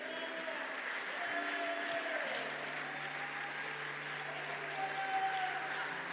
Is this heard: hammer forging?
no